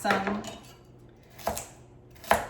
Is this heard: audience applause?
no